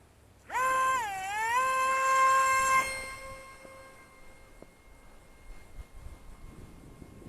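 Small Eachine Mini Wing Dragon 540mm EPP trainer glider with an electric motor throttling up for takeoff, a loud buzzing whine that rises in pitch, holds, then drops away, leaving faint wind and rustle.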